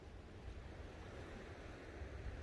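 Ocean waves washing in a steady, broad rush, continuous and moderately loud with a slight swell, mixed with some wind noise and no voices.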